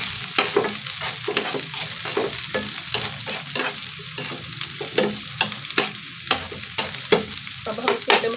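Fresh garlic frying in a pan while a utensil stirs it: a steady bed of sizzle broken by frequent scraping strokes, close and fairly loud, with no talking.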